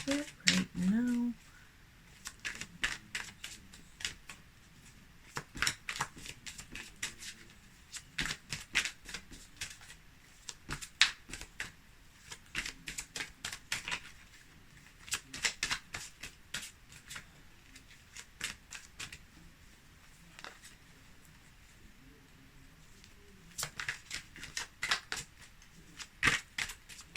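Tarot cards shuffled by hand in repeated bursts of crisp, papery riffling and flicking, close and fairly loud, continuing for the whole stretch with short gaps between shuffles.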